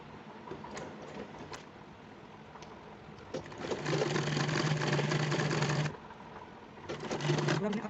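A domestic sewing machine stitches a folded fabric strip for a small child's kurta in two loud, steady bursts of rapid needle chatter, the first longer, between quieter handling.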